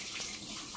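Tap water runs steadily over oregano leaves being washed at a kitchen sink, a brief, soft, continuous hiss of flowing water.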